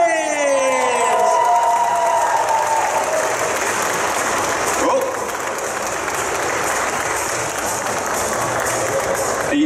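Loud, sustained applause from a large Comic Con Brussels audience with cheering and whoops on top, dense clapping that carries on steadily throughout.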